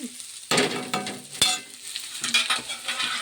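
Food frying and being stirred in a pan, with sizzling punctuated by sharp scrapes and clatters of a spoon against the pan, close and fairly loud, with no talking.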